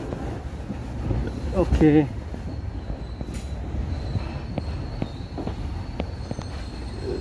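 The Cibatu joyride train runs along its rails toward Bandung with a steady rolling rumble and a brief wavering squeal early on, while people talk over it.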